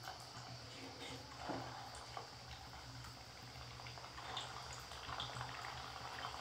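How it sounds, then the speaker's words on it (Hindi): Sooji potato snacks fry in hot oil in a kadhai on a gas stove, giving a steady, soft sizzle and bubbling with scattered faint crackles and light ticks throughout. "पूरा इसे ही डालकर फ्राई करेंगे अच्छे से"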